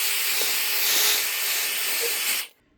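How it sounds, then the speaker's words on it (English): A hairdryer warms a treadmill's button pad, giving a steady, loud, close-up blowing hiss for about two and a half seconds before it cuts off abruptly. "now we're going to gently heat the button pad with a hairdryer"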